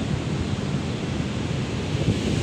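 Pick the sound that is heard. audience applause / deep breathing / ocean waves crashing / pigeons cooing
ocean waves crashing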